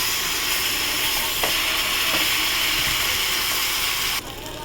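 A paste of poppy seeds and potato stirred in a pan over a low gas flame gives a broad, steady wet sizzle and hiss with soft scraping, close and continuous, dropping quieter near the end.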